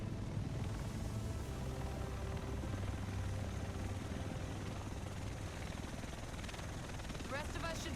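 A helicopter approaches in The Division video game, a loud continuous rotor roar and thudding wash that fills the whole stretch, with voices speaking over it.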